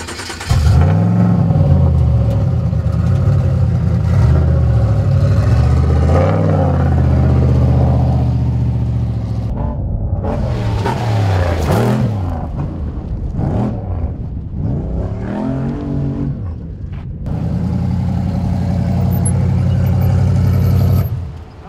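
Race truck engine revving hard while driving, loud close-up roar rising and falling with throttle changes, brief lulls and surges, steady heavy drone throughout with no talk.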